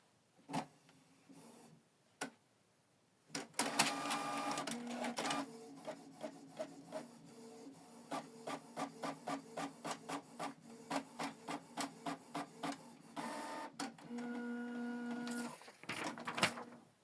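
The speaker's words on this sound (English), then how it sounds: "Print test page." A Canon PIXMA TR4755i inkjet printer runs a test page: a few separate clicks, then rapid rhythmic ticking of the print head passing back and forth with brief whirring feed motor bursts, close and moderately loud.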